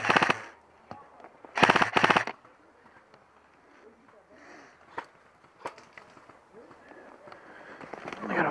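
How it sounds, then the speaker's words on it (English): Airsoft gunfire crackles during an outdoor game, with two brief rapid bursts of shots near the start and scattered single pops after, BBs whizzing past, while players talk and shout in between. "Those are whizzing by like an inch from my helmet."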